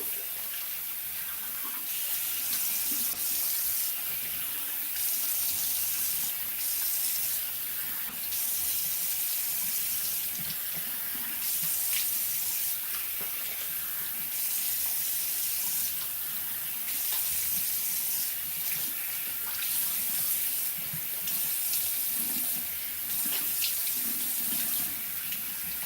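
Tap water runs steadily into a sink while a face is rinsed, a continuous soft splashing rush with small shifts in flow and no voices.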